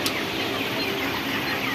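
A crowded poultry shed of large broiler chickens fills the air with a dense, steady wash of clucking and chatter, loud and continuous with no single bird standing out.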